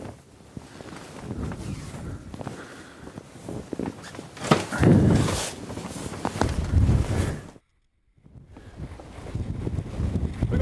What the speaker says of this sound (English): 50 knots, 55 knots of wind. It's the highest wind we've had yet.